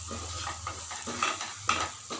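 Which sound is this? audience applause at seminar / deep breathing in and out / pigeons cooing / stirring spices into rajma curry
stirring spices into rajma curry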